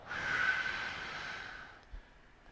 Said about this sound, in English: when you inhale, you expand and you diaphragmatic breathe, and you exhale